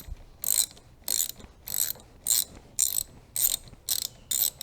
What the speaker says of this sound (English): starting with the negative terminal, put the ratchet on